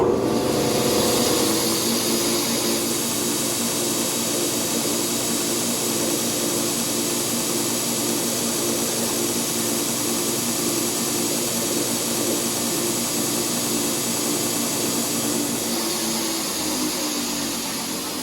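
A power sander works wood faces to a 220 grit finish, a loud continuous whirring roar with a broad hiss, steady throughout and tapering slightly at the end, with no one talking.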